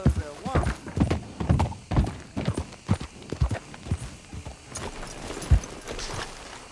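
Horse hooves in Red Dead Redemption II clop at an uneven pace close by, mixed with in-game character speech and other scuffs.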